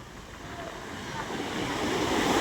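Big sea waves wash against the fish terminal at Julugan, Tanza, Cavite, a broad roaring surf hiss mixed with wind buffeting, swelling slightly louder over a couple of seconds.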